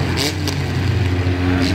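A demolition derby car engine at the Iredell County Fair, stuck and failing to go into gear, holds a steady loud low rumble throughout, with crowd noise and voices talking over it.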